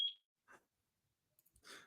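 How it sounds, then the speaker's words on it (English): During smoke alarm testing, one short, shrill electronic beep rings out faintly, then quiet follows with a few soft, distant knocks and rustles. "We've got someone doing some like smoke alarm testing at the moment."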